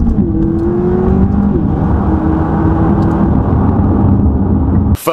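McLaren 540C supercar accelerating hard from inside the cabin, a loud continuous engine roar with rising pitch through the gears, steady and close throughout, cutting off abruptly at the end.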